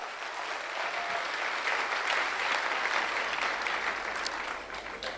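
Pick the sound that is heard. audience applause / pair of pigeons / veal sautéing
audience applause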